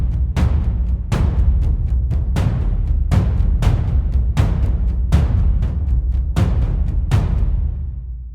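Programmed percussion groove of sharp, evenly spaced hits over a steady low-end pulse, loud and close, with the accents falling on shifted beats across the measure rather than on each downbeat.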